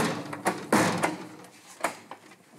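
Knocks on a home's door, a few sharp irregular raps close by, separated by short pauses, with no talking.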